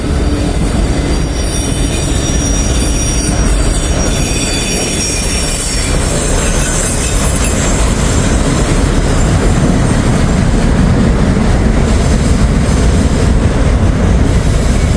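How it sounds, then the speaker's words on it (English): A CSX freight train rolls past close by under an interstate overpass, a loud continuous rumble of rail cars with wheel squeal and faint clickety-clack running steadily throughout. "And there is the end of the CSX train."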